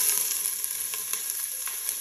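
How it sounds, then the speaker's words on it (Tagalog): Olive oil sizzling in a cooking pot: a steady, bright, faint crackling hiss with small popping spikes, alone with no voices. "Sinalang ko na yung pot at lalagyan ko siya ng olive oil."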